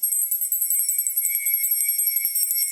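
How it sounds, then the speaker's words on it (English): A rapid, continuous high metallic ringing with a fast shimmering pulse, bright and loud, like a small bell shaken steadily. "This is a spirit bell."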